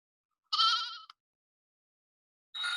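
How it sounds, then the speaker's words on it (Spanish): A sheep bleats loudly and close by, one wavering bleat followed after a pause by a second shorter call, with silence between and no voices. "Oveja."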